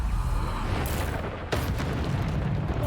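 A Bombarda spell blasting in a Harry Potter video game, a dense continuous roar of explosive rumble with a sharp burst about halfway through, loud and sustained.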